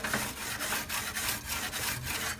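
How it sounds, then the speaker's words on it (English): Scrubbing a Weber grill part, most likely the grates or bars, with a brush: rapid rhythmic back-and-forth rasping strokes, close and loud, with no talk. "Let's give this a scrub"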